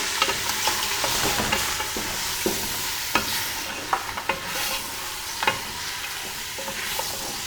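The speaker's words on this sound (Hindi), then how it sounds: "इसको हम प्याज के साथ भून लेंगे।" Mutton and onions sizzle loudly in a hot karahi pan, a dense hiss broken by repeated scraping clicks of a spoon stirring.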